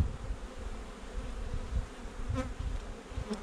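Honeybees buzz steadily at an open beehive during beekeeping work, a dense, continuous drone close to the microphone with a few louder individual bees passing near.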